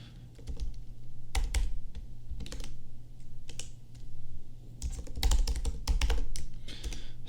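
Close computer keyboard typing of code, rapid bursts of clacking keystrokes separated by short pauses, loud and steady with no voices.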